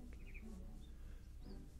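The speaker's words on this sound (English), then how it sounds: "I hear birds." Brief bird chirps from the Staxel video game, a few short high tweets scattered over a steady low background hum, faint and without speech.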